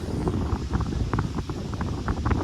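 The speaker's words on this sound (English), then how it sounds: "It's a pretty windy day out here in Kansas City, Kansas." Wind gusts buffet the microphone outdoors on a windy day in Kansas City, Kansas, making a steady low roar and rumble with small gusty swells throughout, heard alone.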